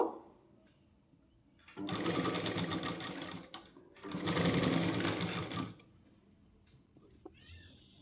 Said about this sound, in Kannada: ಆದಷ್ಟು ನಿಧಾನಕ್ಕೆ ಈ ರೀತಿ ಸ್ಯಾರಿಗಳನ್ನ ನಾವು ಮಡಚ್ಕೊತ ಈ ರೀತಿ ಸ್ಟಿಚ್ ಮಾಡೋದ್ರಿಂದ ಫಿನಿಶಿಂಗು ಚೆನ್ನಾಗಿ ಬರುತ್ತೆ